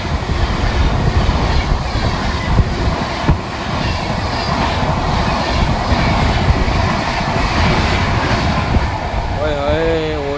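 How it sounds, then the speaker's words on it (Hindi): Indian Railways 12932 Double Decker Express train passing close by, a loud continuous rumble and rattle of wheels and coaches with clickety-clack, a horn-like tonal wail rising near the end. "आ रही है 12932 double decker express, India fastest double decker."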